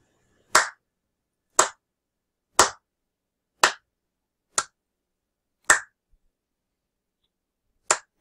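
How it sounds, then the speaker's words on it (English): Seven slow, evenly spaced single hand claps, sharp and close, with roughly a second of silence between each. "You ever notice that you're doing a slow clap for yourself?"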